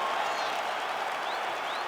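An arena crowd cheers and applauds after an MMA fight finish between Anderson Silva and Chael Sonnen, a dense, steady roar of clapping and shouting that fills the space, with some faint voices mixed in.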